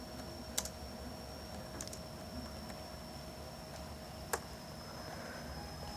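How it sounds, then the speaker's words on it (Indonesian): A command is typed on a computer keyboard during network router configuration, with a few sparse, quiet keystroke clicks over a faint steady hum. "kita ketikkan perintah show IP route"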